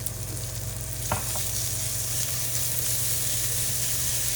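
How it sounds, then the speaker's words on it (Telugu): Ginger garlic paste fries with a constant, dense sizzle in a pan, and a faint stirring scrape comes through near the middle under the steady crackle. "పచ్చివాసన అయ్యే వరకు వేయించండి"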